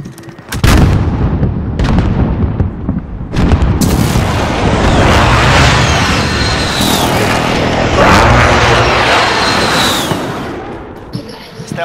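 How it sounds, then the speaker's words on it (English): Precision airstrike explosions in Call of Duty Modern Warfare, a series of heavy booming blasts and rumbling impacts with jet-like sweeps, loud and sustained, rolling together for several seconds before fading. "Precision airstrike, get down!"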